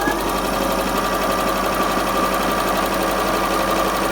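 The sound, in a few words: Bernette b37 sewing machine embroidering a letter with zigzag stitch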